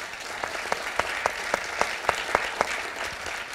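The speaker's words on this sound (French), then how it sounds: "peut-être on peut l'applaudir encore une fois" Audience at a congress of local elected officials applauding, a moderate wash of clapping with a few sharp distinct claps standing out at a steady pace, fairly quiet and without talk.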